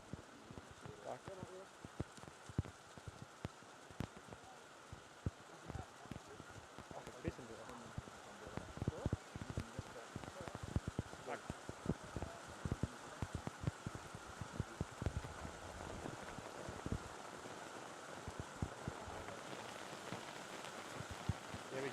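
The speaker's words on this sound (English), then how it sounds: "I'm sure you can hear the rain coming down on these umbrellas at the moment" Steady rain drums on umbrellas outdoors at a rugby match in Coffs Harbour, a dense patter of many drops, close and continuous, with no one speaking.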